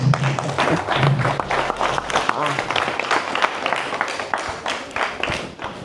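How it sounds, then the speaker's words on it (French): A conference audience applauds a speaker in a dense, sustained patter of clapping that runs for about six seconds, with some crowd noise mixed in. "je vous demande d'applaudir M. Seck"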